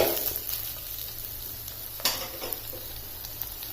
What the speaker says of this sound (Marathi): आपल्याला दुसऱ्या बाजूने सुद्धा छान शेकून घ्यायचं आहे आणि हे छान क्रिस्पी शेकून घ्यायचे